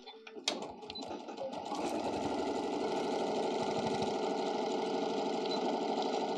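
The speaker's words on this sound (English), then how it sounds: "we're gonna go ahead and stitch that across" A sewing machine stitches straight across the bottom seam of a fabric bunny ear basket, starting with a few clicks and then running in a steady, loud, close whirring hum.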